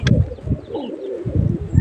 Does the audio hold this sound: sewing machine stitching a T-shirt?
no